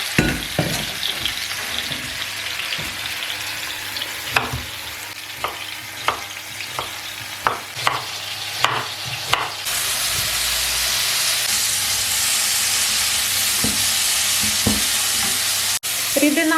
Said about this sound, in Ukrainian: Запікаємо на великому вогні і обсмажуємо помішуючи.